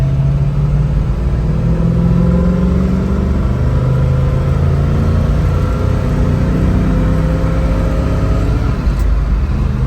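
A 1967 Shelby GT350 with a four-speed manual, heard from inside the moving car, its engine droning and rumbling loudly and steadily, revving near 4,000 RPM, with no clear break for a gear change.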